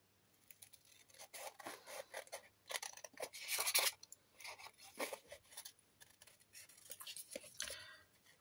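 Scissors snipping paper for small notebook covers, a quiet run of crisp, irregular cuts and rustles close by, with short pauses between snips.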